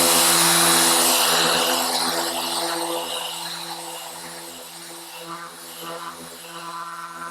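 An orbital sander fitted with a Mirka Abranet mesh sanding disc and hooked to a dust extractor whirs close by with a steady tonal hum and airy hiss, loudest at first and then easing to a lower, quieter running drone.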